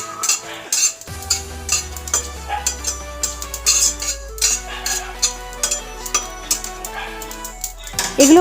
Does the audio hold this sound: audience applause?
no